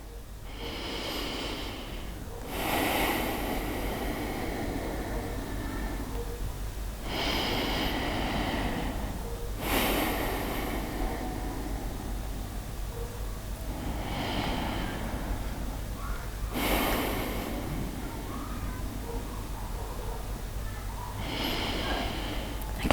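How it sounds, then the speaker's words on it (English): Slow, deep breaths taken during a guided relaxation, several long airy inhales and exhales spaced a few seconds apart over a low steady background hum, with no talking. "Now let's take 3 deep breaths together."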